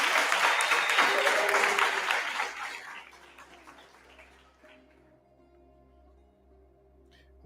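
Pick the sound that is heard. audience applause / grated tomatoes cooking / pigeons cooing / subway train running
audience applause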